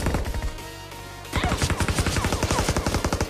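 An explosive bow fires at a car in the Game for Peace mobile shooter. A low hum gives way to a rapid, loud run of repeated bangs and blasts that continues to the end.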